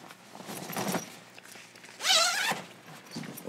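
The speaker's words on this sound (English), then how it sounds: "Zipper one bag." A zipper runs quickly along a double film changing bag made of one nylon and one cotton layer. The short zip stands out over quiet handling rustle.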